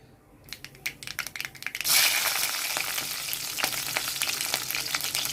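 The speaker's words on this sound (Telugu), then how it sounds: "ఆవాలు వేస్తున్నానండి." Mustard seeds hit hot oil and burst into a loud, close, crackling sizzle that rises sharply after a few scattered pops, then holds as a dense steady hiss peppered with sharp spattering cracks.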